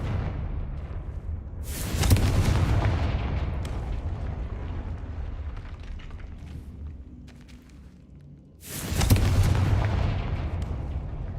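A Confringo spell explodes in the Hogwarts Legacy game, two deep booming blasts that each hit suddenly and roll on into a long rumbling tail, loud and close, with no speech.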